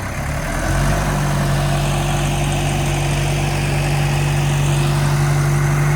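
A Hattat 285S tractor engine idles steadily nearby, a deep, constant rumble with a low hum, unchanging after it settles in the first second.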